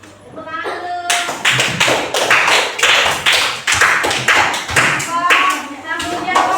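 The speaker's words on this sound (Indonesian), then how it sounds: "Tepuk tangan dulu" Classroom group clapping in a loud, dense burst of many hands, lasting through the clip with voices and chatter mixed in.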